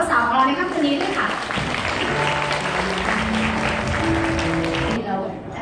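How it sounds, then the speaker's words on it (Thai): Applause from wedding guests welcomes the bride and groom at an evening reception at Rama Gardens, steady clapping through the clip, with a voice speaking over it. "ขอเสียงปรบมือต้อนรับเจ้าบ่าวเจ้าสาวของเราในค่ำคืนนี้ด้วยค่ะ"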